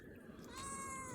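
A cat meows once, a rising, drawn-out harmonic cry that swells in the second half, close and fairly clear over light background noise.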